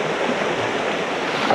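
A Scottish river stream rushing steadily nearby, a loud continuous broadband wash of flowing water with no pauses.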